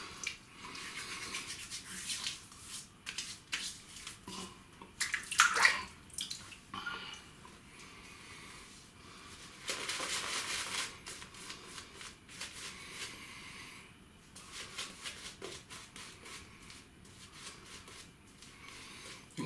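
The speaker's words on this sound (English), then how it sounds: "It does make quite a good lather." Soap being lathered with water, a soft wet squelching and swishing that comes in irregular bursts, with short louder spurts of scrubbing between quieter stretches, close and fairly faint.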